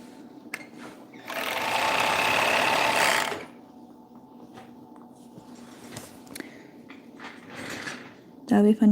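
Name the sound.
sewing machine stitching pants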